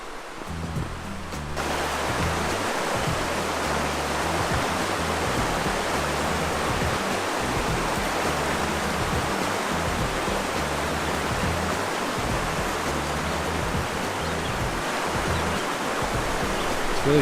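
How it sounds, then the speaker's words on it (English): A shallow rocky brook flows right beside a campsite in Vermont, a steady, full rushing wash of water that holds unbroken and fairly loud throughout, with no voices over it. "Here's the little river"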